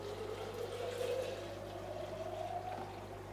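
Water bubbling steadily in an artemia (brine shrimp) hatching setup, an air-driven stream of fine bubbles in a water container, continuous and moderately quiet with a low hum underneath, no talk.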